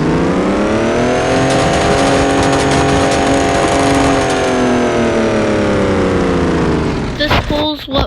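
A Ford F450 diesel truck engine in a video game revs on a dyno test, giving a loud sustained engine drone that holds steady, then cuts off with brief clatter near the end.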